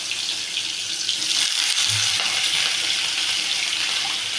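Potato pieces tipped into hot oil already tempered with mustard seeds give a steady, loud, close hiss of sizzling that runs unbroken throughout, with no talk over it.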